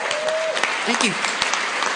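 An audience at an Alcoholics Anonymous convention in Westlake Village, California applauds after a speaker announces a sobriety date, producing dense, even clapping. A voice briefly says thanks over it.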